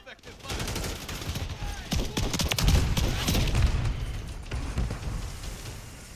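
Heavy bursts of automatic gunfire in the video game Call of Duty Modern Warfare III, sounding as a loud, close, continuous volley of shots with booming impacts and clattering mechanical noise running through the whole stretch.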